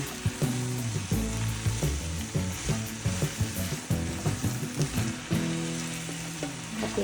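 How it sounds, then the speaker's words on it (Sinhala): Chopped bell peppers sizzling in hot oil with squid for Sri Lankan devilled squid, a continuous close frying hiss broken by repeated scraping and clinking of a stirring spoon against the pan. "අපි එකතු කරගත්ත බෙල් පෙපර් ටික තෙලෙන් පොඩ්ඩක් ටෙම්පරාදු වෙනකම් අපි ටිකක් මේක මික්ස් කරගන්න ඕන"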